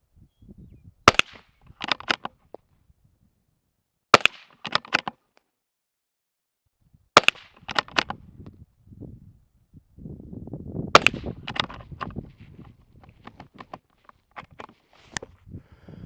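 A .22 rifle loaded by hand after every shot fires a handful of sharp, loud cracks, some single and some in quick pairs, spaced several seconds apart, with quiet handling and rustling in between.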